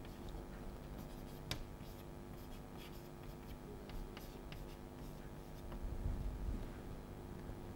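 Chalk or pen writing during a lecture, faint scratchy strokes and small taps spread through a steady room hum, with no talking.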